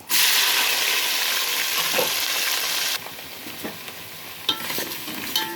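Onion pieces and whole spices fry in a pan with a loud, dense sizzle that drops to a softer crackle partway through, broken by a few scattered utensil clicks and scrapes, with no voices.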